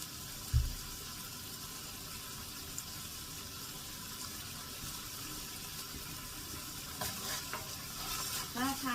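Pla ra, Thai fermented fish, being stir-fried in a pan, with a low steady sizzle and faint stirring scrapes, a brief knock near the start and a few clinks toward the end.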